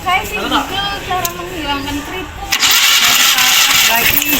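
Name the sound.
conventional car engine cranking with the starter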